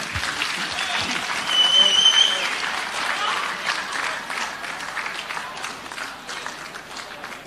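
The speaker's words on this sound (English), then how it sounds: "Another big round of applause for the Team of the Year" A large crowd at an Australian football awards night applauds steadily and loudly for several seconds, a dense wash of clapping with a few cheers mixed in.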